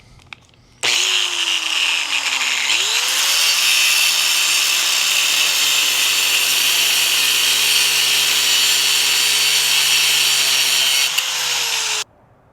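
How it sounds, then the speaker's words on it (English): A power tool cuts excess threads off steel bolts on a homemade bed dolly, a loud continuous high whine and grinding hiss lasting about eleven seconds, pitch dipping and rising as the blade bites, then stopping abruptly. "Now we're going to cut the excess threads off."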